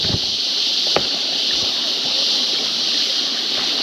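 A freshwater stream flows steadily close by on a plantation during a morning walk, a continuous rushing wash with a couple of brief knocks over it.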